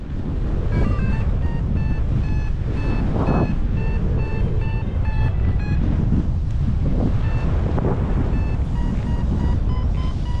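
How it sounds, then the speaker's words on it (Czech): A south wind of about 3 metres per second roars across the microphone during a paragliding competition flight in Slovakia, heavy buffeting wind noise with steady high electronic beeps from a flight instrument repeating throughout, and no talking. "Fouká jižní vítr asi 3 metry za sekundu"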